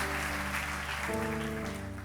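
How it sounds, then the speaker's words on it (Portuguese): Congregation applauding during a church service, a steady dense wash of clapping with a sustained musical tone underneath throughout. "Aplauda a Jesus."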